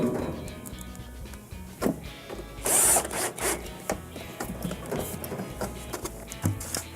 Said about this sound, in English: Then we can reinstall our 2 Phillips screws.